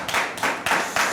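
Audience clapping for a guest doctor at a talk show, four rhythmic bursts of hand claps in quick succession, close and fairly loud.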